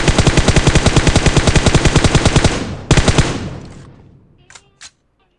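A rapid burst of automatic gunfire rings out in PUBG Mobile, dozens of sharp evenly spaced shots in a close, loud string, then a brief pause, a couple more shots, a fading tail and two faint clicks.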